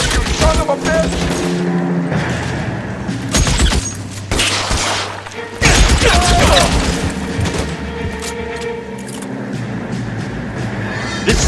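Gunfire erupts in an L.A. Noire shootout: sharp shots and bursts come in irregular clusters, mixed with impacts, music and a voice calling out.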